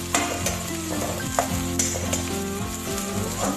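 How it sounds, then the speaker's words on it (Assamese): Onion, ginger and garlic fry in a pan for a pumpkin curry, a loud, continuous sizzle close up, with repeated scraping strokes from stirring and no one talking. "আদা নহৰু কেঁচা গোন্ধটো যোৱালৈকে অকণমান ভাজিম"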